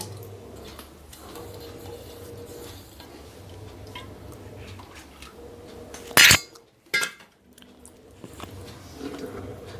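A spoon stirs urad dal porridge with coconut milk in a pot, making soft scraping and quiet clinks. Two sharp, loud metallic knocks stand out near the end, with no talking.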